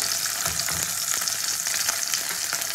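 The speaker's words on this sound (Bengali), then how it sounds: "ভাজা মাছগুলো একটু কড়া করে ভেজে নেবো।" Fish, likely rohu or bata, fries crisp in a hot pan, giving a loud, dense, continuous sizzle and crackle with occasional stirring knocks close by, and no voices.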